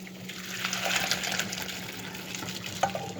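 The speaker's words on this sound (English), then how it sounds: "So now we're going to take it to the strainer and start straining this out." Cooked noodles for chunky soup pour into a strainer in a kitchen sink, water rushing and splashing steadily through the mesh for a few seconds, close and fairly loud.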